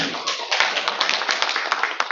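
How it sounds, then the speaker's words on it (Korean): Close applause from a small group at a World Couples' Day ceremony in Korea's National Assembly, distinct overlapping hand claps in an uneven rhythm, fairly near and moderately loud. "박수 한번 부탁합니다"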